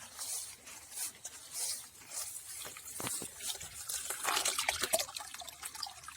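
Dirty pool water with bugs and grass drains from the hose of a Bestway 58515 sand filter pump into a clean bucket, a soft trickling and splashing that swells in bursts near the end.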